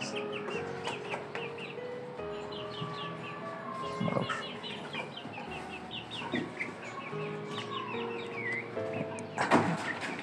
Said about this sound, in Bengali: এখানে রয়েছে আমাদের সেই সাদা মুরগিগুলো, যেগুলো এখন অনেকটাই বেড়ে উঠেছে মাশাআল্লাহ।